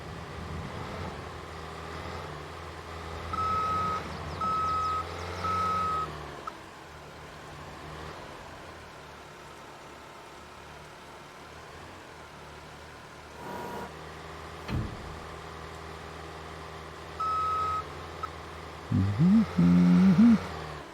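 Skid steer in Farming Simulator 22 on the Calmsden Farm map sounding short reversing beeps, three evenly spaced tones and later a single one, over a steady engine drone and rain.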